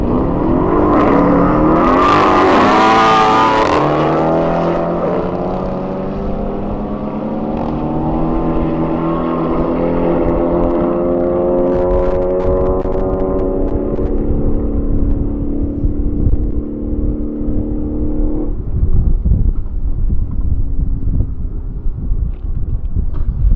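A Honda Civic Si at a street drag-racing speed event accelerates hard with a loud, close engine howl, climbing through the gears in long sweeps before settling into a roaring high-speed whine with wind noise.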